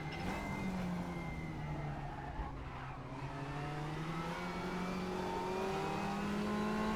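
Racing car engine in a video game dropping pitch as the driver brakes for a corner, then rising again as it accelerates out, a continuous loud whine with engine harmonics sliding down and back up.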